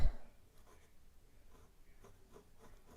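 A Lamy Studio fountain pen with a fine nib, dipped in Waterman Serenity Blue ink, scratches softly across paper in quiet, continuous strokes with faint rhythmic rubbing.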